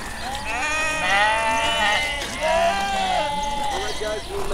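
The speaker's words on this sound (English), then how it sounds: "So these are the sheep." East Friesian sheep bleat repeatedly in a wavering, overlapping chorus at a farm stop in Querétaro, Mexico, fairly close and loud, with people talking underneath.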